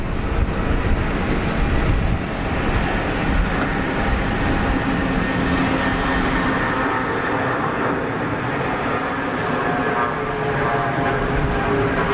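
A Lufthansa CRJ 900 regional jet at Geneva Airport gives a steady, loud, broadband engine roar that holds for the whole stretch with no talking.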